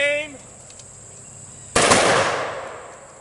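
A rifle volley at a military ceremony goes off as one sharp, loud crack, then echoes and fades outdoors after a brief vocal fragment.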